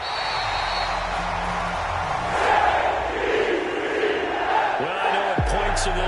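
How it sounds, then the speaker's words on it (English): Home crowd applauding and cheering in a PS4 sports video game, a broad steady roar of many voices and claps filling the whole stretch, swelling slightly midway, with a few bounces and game tones near the end. "And the home crowd applauding."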